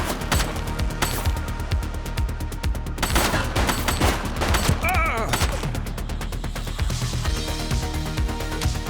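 Sustained gunfire crackles throughout a shootout in The Precinct video game, rapid loud shots forming a dense fusillade with brief shouted voices mixed in.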